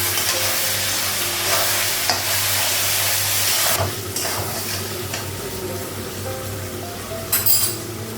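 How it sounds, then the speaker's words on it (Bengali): Poppy seed and ginger paste fries in a pan with a steady close sizzle, broken by a few stirring scrapes and light clinks of the spoon against the pan. "পোস্ত আদা বাটা দিলাম, একটু ভেজে নিই।"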